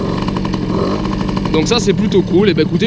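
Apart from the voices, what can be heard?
Peugeot 103 moped engine idling with Doppler 50 kit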